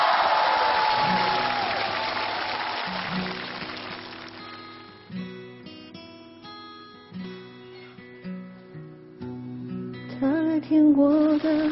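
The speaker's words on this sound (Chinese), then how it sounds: "掌声有请" A studio audience at a Chinese variety show claps for a few seconds, the applause fading out as a slow piano-led song begins to play.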